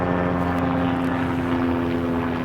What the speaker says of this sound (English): I'll wait for this helicopter to go over.